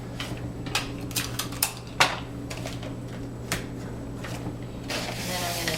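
Adhesive tape pulled and pressed along the ends of a log-shaped soap mold, giving a series of short crackly rips and taps over a steady low hum, closing in a longer rustling stretch.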